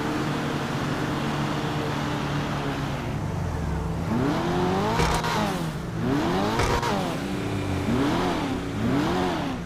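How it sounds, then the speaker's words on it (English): An Annis 300R car engine in a video game, idling, then revved repeatedly in sharp rising and falling bursts, loud and close. "let's go ahead and listen to that rev"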